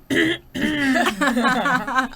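A woman imitates her father's cough, a short throaty burst followed by voiced, laugh-like vocal sounds, close and fairly loud.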